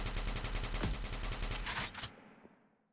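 Rapid bursts of gunfire from a weapon shooting an enemy in the Outer Ring tech demo game, a dense automatic volley lasting about two seconds before stopping abruptly and trailing into a short fading echo.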